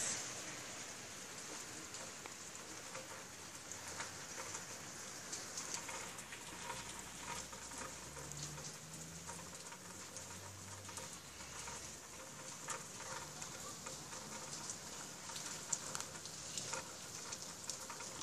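Heavy rain pours onto a street in a steady, dense hiss of patter, fairly faint and even, with occasional pigeon cooing in the background.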